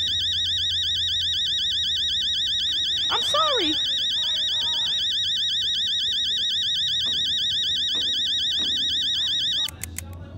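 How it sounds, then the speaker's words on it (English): A video game alarm clock rings continuously at close range, a loud warbling electronic tone that holds steady for about ten seconds with a brief sweeping sound partway through, then cuts off abruptly near the end. "Why was the alarm clock terrorizing us?"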